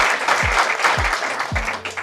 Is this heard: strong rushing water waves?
no